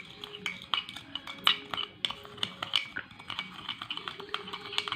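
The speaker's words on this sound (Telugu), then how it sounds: "1 కప్ షుగర్ వేసుకున్న తర్వాత మళ్ళీ మనం కలుపుకోవాలి" Sugar being stirred in a bowl with a spoon, giving a quiet, continuous run of small clinks and scrapes in an irregular rhythm, close by, with no talking.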